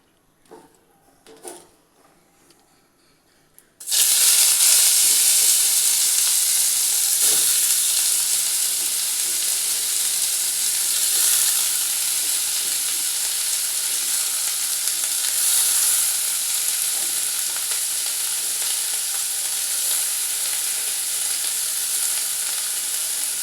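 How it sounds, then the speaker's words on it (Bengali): Onions hit hot oil in a pan with a sudden loud sizzle after a few quiet seconds of faint handling clicks, then fry in a continuous close hiss with occasional stirring scrapes. "তেলটা গরম হয়ে গেছে এবার আমি পেঁয়াজগুলো দিয়ে দিচ্ছি"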